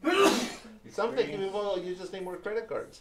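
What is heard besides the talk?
sneeze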